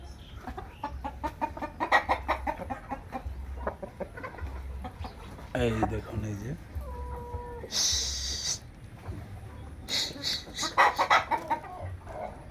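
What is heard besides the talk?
big Tiger breed roosters clucking on farm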